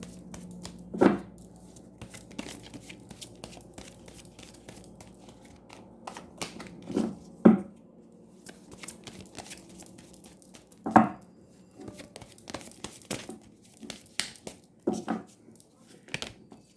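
Cards handled for a Hindi-language tarot-style reading give off scattered soft riffling and tapping sounds, with a few sharper slaps standing out, quiet and close over a long stretch with no speech.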